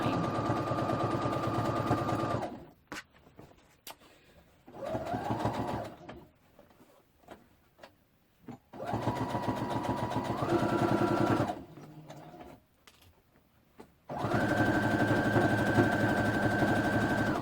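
A sewing machine stitches fabric for a skirt in several runs of steady, rapid whirring, each lasting a few seconds, separated by quiet pauses and soft handling sounds.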